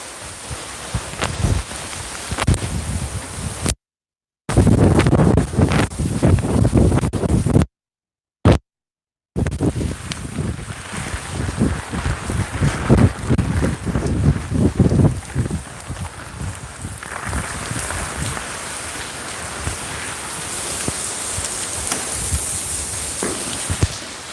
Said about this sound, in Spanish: a ver si encuentro un poco menos de lluvia